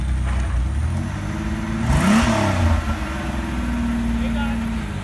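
A Ford GT40 replica's engine revs up during a burnout on ice, rising to a loud rev peak and then dropping again. Voices talk and shout over the engine.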